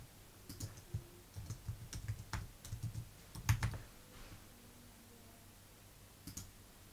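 Someone types a password on a computer keyboard, producing a short run of quiet, close keystroke clicks in uneven bursts, then a pause and a final couple of taps.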